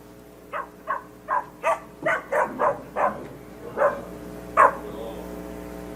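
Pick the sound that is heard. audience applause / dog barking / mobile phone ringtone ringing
dog barking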